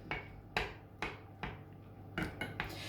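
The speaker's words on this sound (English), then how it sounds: "I'm just breaking them up with my wooden spoon as I go." A wooden spoon knocks against a pan while breaking up whole tomatoes for a meatball tomato sauce, giving six or seven sharp, separate taps at a loose, uneven pace with no talking.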